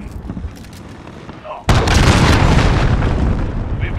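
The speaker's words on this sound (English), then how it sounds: "Allied cruise missile away." A cruise missile launches and detonates in the Call of Duty: Modern Warfare video game: a quiet stretch breaks into a sudden, loud, sustained blast and rumble that fills the rest of the moment.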